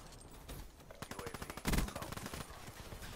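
Rapid automatic gunfire from the Black Ops 3 video game rattles in a quick, even stream of shots, fairly quiet in the mix and peaking with a heavier blast midway.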